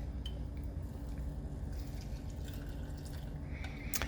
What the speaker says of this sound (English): that's when you're going to take your hot simmering water and pour that over top of your green beans